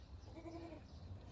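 A goat gives one short, faint bleat in a farm pen, a brief nasal call in quiet surroundings with no voices.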